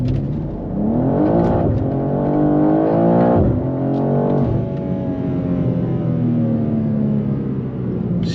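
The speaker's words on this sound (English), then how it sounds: "We're going to do a 0 to 100 measurement right here." BMW M2 G87 accelerating hard from 0 to 100 on the Autobahn, loud engine rising in pitch through several gear changes with brief dips between upshifts, then a long sustained pull.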